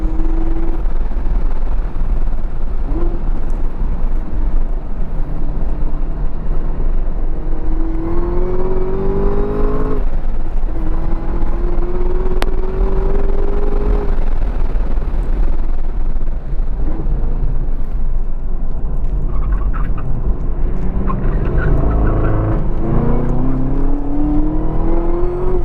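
A 2018 Chevrolet Camaro ZL1 1LE V8 roars through repeated acceleration runs on a race track, heard from inside the car, a loud constant drone with engine pitch climbing through each gear before dropping at the shifts.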